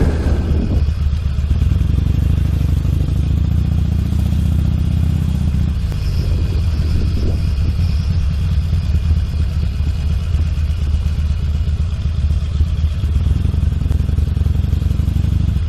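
Many motorcycles idling and rumbling at the Calne bike meet, a continuous dense engine drone with occasional clatter, fairly close, with no clear talk.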